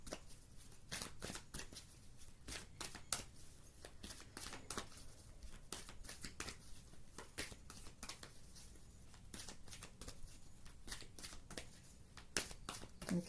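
Oracle cards are shuffled steadily by hand, producing a quiet, continuous run of soft flicking and riffling close by, with no talking.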